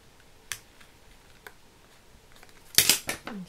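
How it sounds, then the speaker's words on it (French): Scissors cut through a handmade Christmas card: a few isolated crisp snips, then a quick cluster of sharper, louder cuts near the end, close by and otherwise quiet. "Là, je préfère les ciseaux parce que les cutters, c'est pas évident à utiliser."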